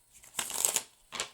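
Tarot cards are riffled and shuffled in two quick bursts, close and crisp, with a short pause between them.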